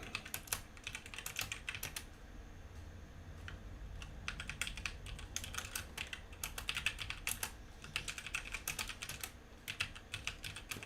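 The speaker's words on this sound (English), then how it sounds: "I know you guys hear me typing." Rapid keyboard typing clicks away in uneven bursts, close and fairly quiet, with short pauses between runs of keystrokes.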